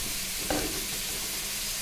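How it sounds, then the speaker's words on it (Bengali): Raisins frying lightly in ghee in a pan while cooking flattened-rice pulao give a faint, steady sizzle, with one brief stirring clink near the start. "কিশমিশ ছেড়ে দিলাম। দেখো হালকা করে ভাজছি,"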